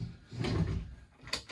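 A kitchen drawer in a Birchwood 440 Challenger caravan slides open or shut, a soft rumbling slide followed by a couple of sharp knocks near the end, close and alone.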